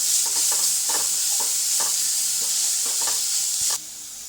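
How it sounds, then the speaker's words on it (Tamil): Grated carrot sautéing in ghee for carrot payasam, a steady close sizzle with soft spatula scrapes and taps at irregular intervals, the hiss dropping slightly near the end. "நெய்யிலே கேரட்டை நல்லா வதக்கி விட்டுக்கலாம்"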